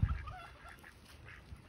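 Geese honk at a fishing spot, a few loud calls at the start that fade into faint, scattered honks over outdoor background noise.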